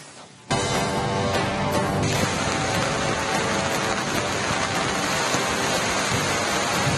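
Heavy, continuous monsoon rain in the Chikkamagaluru Malenadu region starts abruptly after a brief quiet moment, then pours as a loud, dense, unbroken hiss with no voices.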